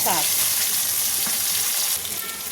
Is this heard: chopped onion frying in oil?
yes